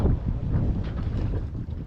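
A sailboat rolls through a choppy swell in strong wind on an overnight gulf crossing, with loud, steady wind buffeting and rushing water and no voices.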